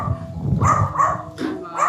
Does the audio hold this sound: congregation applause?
no